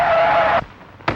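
An old 1930s car brakes hard with a loud, steady tire skid lasting about half a second, then cuts off, followed by a short sharp burst of noise.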